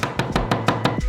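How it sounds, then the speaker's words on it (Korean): A kitchen knife chops peeled garlic on a cutting board in six sharp, evenly spaced strokes, each a crisp thud-and-click heard up close with no talking. "껍질을 벗기고 도마에서 잘게 칼로 썰어주세요"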